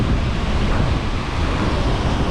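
Cascada del Diablo waterfall in Baños, Ecuador, a loud, close, continuous broadband roar of rushing water with wind-like noise and no breaks.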